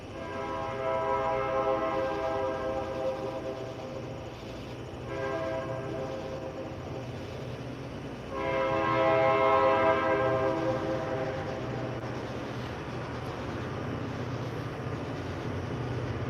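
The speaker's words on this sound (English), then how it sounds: "And there's the local train going by." A local train rolls past with a steady rumble and sounds its horn in long, loud blasts that rise and fall, alone without talk.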